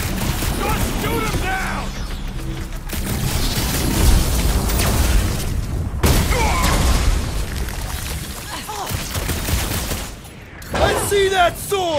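Gunfire and explosions from a Guardians of the Galaxy combat fight on PS5: dense bursts of shots, booms and mechanical clatter, loud and continuous, with character voices shouting over the battle.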